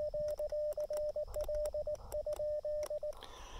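Morse code CW tones from an Elecraft KX2 portable radio running QRP on a mountaintop, a steady high-pitched beep keyed in rapid dots and dashes over faint hiss, ending abruptly in noise.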